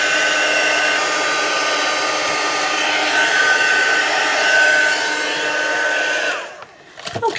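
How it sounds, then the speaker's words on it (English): A heat gun runs at close range, drying a junk journal cover in a loud, steady whooshing roar that holds for about six seconds, then cuts off, followed by a few faint handling knocks. "So I'm just going to dry off again. I won't be a minute. Where's my heat gun?"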